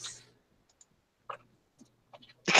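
Keyboard keys clicking as a pet walks across the keys, a few sparse, irregular taps spaced out, ending in a louder cluster, with no talking.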